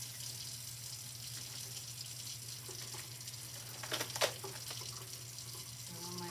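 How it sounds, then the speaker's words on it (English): Water runs steadily from a tap in an even, continuous rush, with a brief clatter partway through. "I'm going to start the water so it can warm up."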